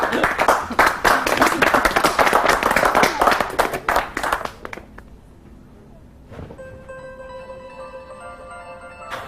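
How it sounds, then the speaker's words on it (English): A crowd on a trading floor claps in dense, steady applause for several seconds, then it dies away, leaving a quieter room with a faint tonal hum. "we should all give Simon a round of applause off the trading floor"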